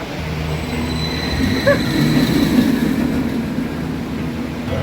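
An empty roller coaster train on the Pipeline surf coaster rumbles steadily along the track with a continuous rolling roar and faint wheel squeals, no voices, sustained throughout.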